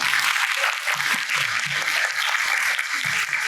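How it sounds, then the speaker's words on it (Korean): Audience applause fills the hall at a Gowoonsesang Cosmetics recruitment briefing as four recently hired employees come on stage, a dense, steady clapping that holds evenly loud throughout. "큰 박수 부탁드립니다."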